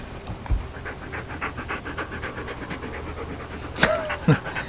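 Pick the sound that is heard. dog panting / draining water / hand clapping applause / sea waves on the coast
dog panting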